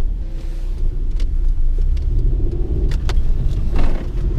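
A lowered Suzuki Kei Sports works replica, with cut-spring coilovers at the rear, drives on a test run, heard from inside as a steady low engine and road rumble with occasional light knocks and rattles.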